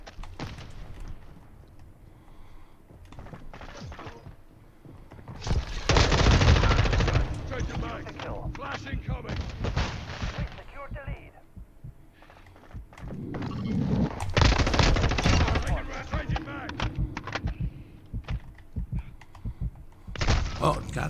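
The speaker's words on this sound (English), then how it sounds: "Contact! I'm taking fire!" Machine gun fire in a military shooter video game comes in long sustained bursts, loud and dense, with quieter stretches between and voices talking over the action.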